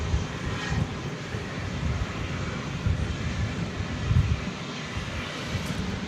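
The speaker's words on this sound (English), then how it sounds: "So there's your Dreamliner" Boeing 787 Dreamliner at DFW Airport at night, a continuous broad engine rumble with low-end surges, steady and moderately loud for several seconds without voices.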